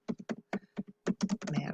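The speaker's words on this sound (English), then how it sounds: "all I have to do to start typing my list is just tab once and start typing my names" A run of quick keystrokes on a computer keyboard while a list of names is entered into a document, including presses of the tab key, in an irregular patter of close, crisp clicks with short pauses between bursts.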